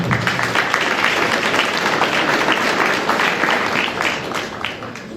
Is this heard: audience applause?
yes